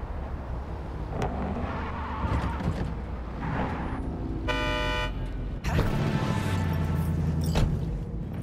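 A car horn honks once in Cyberpunk 2077's Phantom Liberty expansion, a short, steady blare rising above the rumble of engine and game noise.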